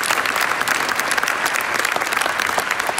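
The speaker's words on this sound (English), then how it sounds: "I think that deserves a round of applause" A live audience claps steadily at a talk in Poland, a dense, even round of applause from many hands filling the room, close and continuous without a break.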